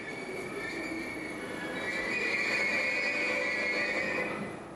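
A train rolling along rails, a steady rumbling ride with a high squeal of wheels on the track that swells and then fades near the end, with no speech.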